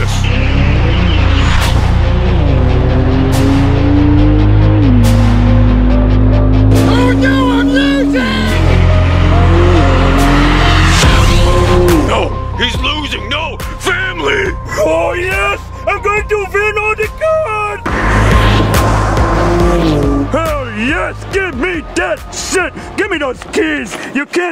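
Race cars roar past with engines revving and tires squealing, one of them a Tesla, loud and continuous, with shouting and cheering voices over the noise.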